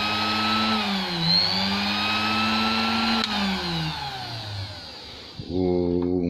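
A sewing machine motor hums steadily and continuously, its pitch wavering slightly, then cuts out and restarts near the end with a brief higher whine.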